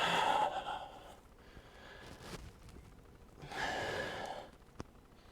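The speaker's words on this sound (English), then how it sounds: "Breathing out." Two slow, deep exhales during a yoga flow, each a soft breathy rush fading out, separated by a quiet pause and a faint click.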